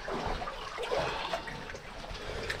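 Water rushing beneath a collapsed passage inside an old mine, a steady broadband wash that is continuous and moderately loud, with no voices.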